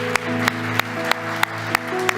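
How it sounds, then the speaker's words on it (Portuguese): Church congregation applauding Jesus during a worship service, a dense steady clapping wash with sustained music tones underneath and sharp regular beats punctuating it. "Aplauda o Senhor Jesus"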